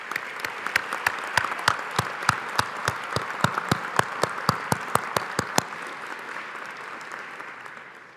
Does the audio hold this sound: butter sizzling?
no